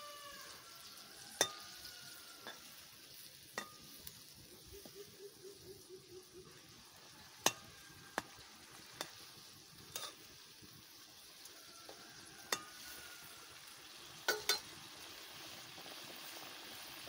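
Fish frying in hot oil for a masala curry, a soft steady sizzle running throughout with scattered sharp clinks and taps of utensils, close and fairly quiet with no talking.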